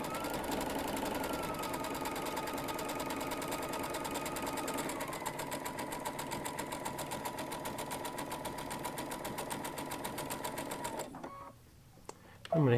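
A Baby Lock Altair sewing machine stitches in one long, even run of fast, close rhythmic whirring that stops abruptly near the end, followed by a brief mechanical click.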